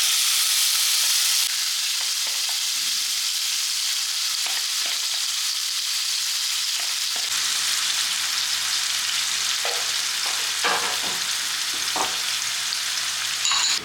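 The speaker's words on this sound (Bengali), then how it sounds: "পেঁয়াজ, রসুন, আদা পেস্ট কিছুটা ভাজা ভাজা হয়ে এসছে" Onion, garlic and ginger paste with fenugreek, cardamom, cinnamon and dried chilli frying in a pan for a chicken and yogurt curry: a loud, steady close hiss of sizzling oil throughout, with occasional soft stirring knocks.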